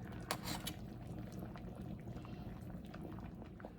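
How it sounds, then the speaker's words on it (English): Pozole verde soup bubbling steadily in a pot, a close, continuous low simmer with a few brief clinks near the start. "this has been boiling for about 10 minutes"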